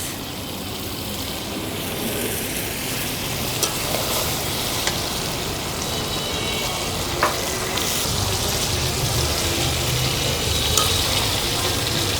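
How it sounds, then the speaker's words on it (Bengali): Pieces of river fish go into a pan of fried spice paste and sizzle steadily, a loud, close, continuous frying hiss with a few faint clinks, no voices. "মশলা কষানো হয়ে গেছে, এখন দিয়ে দিচ্ছি মাছ।"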